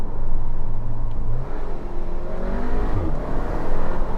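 A Cupra Ateca 300 hp SUV accelerates through gears in manual mode, its engine droning and rising in pitch, with brief exhaust burps at the gear changes heard from inside the car.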